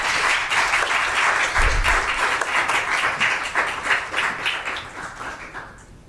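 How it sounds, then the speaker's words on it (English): Sustained audience applause fills a school board meeting room, a dense steady patter of many hands clapping that holds loud, then thins and fades toward the end. "So one more round of applause for them."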